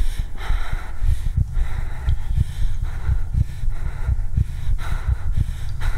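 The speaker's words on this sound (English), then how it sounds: "Why is she breathing so hard?" Heavy, rhythmic panting from a character in the horror exploration game Voidness, steady ragged breaths repeating about once a second, close and loud with no talk over it.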